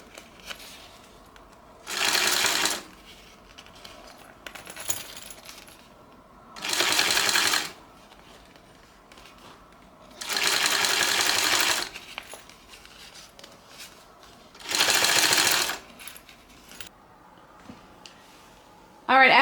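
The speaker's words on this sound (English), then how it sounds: "actually go ahead and finish sewing around this entire thing, basting everything together" A sewing machine basting fabric pieces of a Louie bag together, running in four or five distinct loud bursts of rapid stitching separated by quiet pauses with light handling noises.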